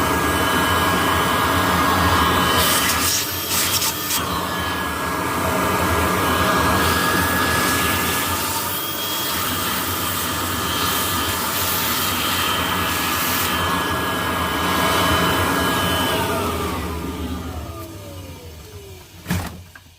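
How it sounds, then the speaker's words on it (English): A vacuum cleaner sucking dust off a Kirby vacuum transmission during a teardown, a loud, steady whining roar held for most of the time before it powers down and its pitch falls away near the end. "I'm just vacuuming the dust off there"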